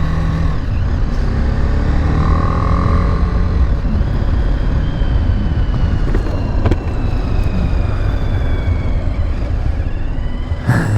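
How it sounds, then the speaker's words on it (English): A 2024 BMW G310GS motorcycle engine whines while riding, a whistly, rising and falling tone over a constant rumble of road and wind noise, loud and close. "Little whistly motors."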